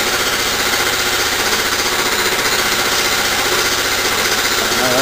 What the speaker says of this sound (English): The compressor just kicked on